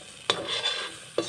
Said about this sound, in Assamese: মটৰখিনিও পানীটো শুহি নোযোৱালৈকে ভাজি থাকিব লাগিব।